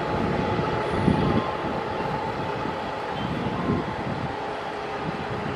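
The Kertajaya train passes a station with a steady rumbling roar of railcars and wheels on track, loud and continuous, with a little wind noise.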